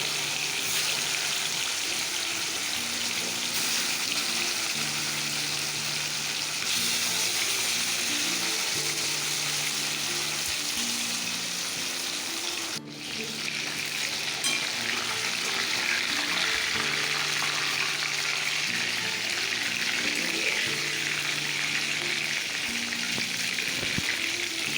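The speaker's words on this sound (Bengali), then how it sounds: "সব চিকেনগুলো অল্প অল্প করে ভেজে নিচ্ছি।" Chicken pieces fry in a pan, giving a continuous loud sizzle close by with a steady bubbling hiss, while a faint melodic tone plays softly in the background and one brief dip interrupts midway.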